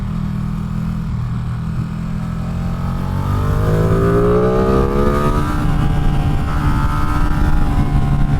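A Ducati Streetfighter V2 motorcycle engine drones steadily on a mountain road, then revs up with rising pitch through the gears, loud and close throughout with no talking.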